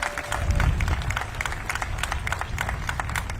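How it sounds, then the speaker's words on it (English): Applause fills a hall at a Houston National Vietnam War Veterans Day ceremony as a judge steps up to speak, steady moderate clapping from the crowd throughout. "Give him a round of applause"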